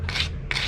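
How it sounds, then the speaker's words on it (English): A wooden dowel end being chamfered by hand: two short, dry rasping strokes, close and quiet, with a brief pause between them. "Before I glue the dowel into the hole, I'm just going to chamfer the end so it fits in"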